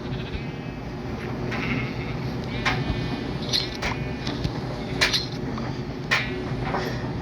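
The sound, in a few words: sheep bleating in the video game Minecraft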